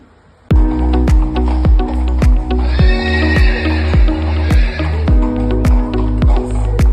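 Horse neighing loudly at close range in a long whinny, while hooves clip-clop in a steady walking rhythm beneath it, in the tack-up area at a Hickstead show-jumping competition.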